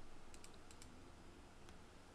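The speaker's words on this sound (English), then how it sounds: "and now we just start typing it in." Someone types pin assignments for an FPGA CPU design on a computer keyboard. A handful of quick, soft key clicks sound faintly over a steady background hiss.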